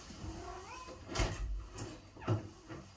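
A pet cat in a home, near a bathroom door, gives a couple of short, fairly close meows, separated by a quiet household background, with no talking.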